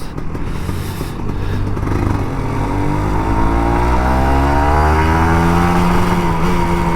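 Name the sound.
motorcycle engine revving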